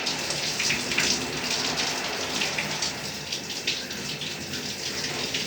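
An older shower runs water to flush out soap scum. A steady, even hiss of spray continues throughout, fairly close, with no one speaking.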